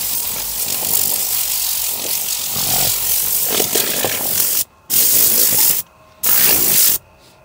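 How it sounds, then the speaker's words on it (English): A TRC Ultra Air Blaster blows dirt out from under a car seat with a loud, close, roaring hiss of compressed air, first continuous, then cut into three short separate blasts with silent gaps between them. "When it comes under the seat, I like to blow everything towards the back."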